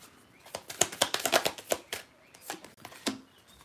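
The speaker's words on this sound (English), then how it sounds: "I was going to stop shuffling" Kali Oracle cards are shuffled by hand close up, a quick run of soft riffling slaps and flutters in an uneven rhythm, fairly quiet with no voices over it.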